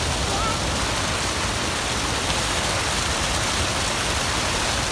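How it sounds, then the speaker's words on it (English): A waterfall rushes in a steady, loud broadband roar with no breaks, close by at a crossing. "Wow, look at this waterfall."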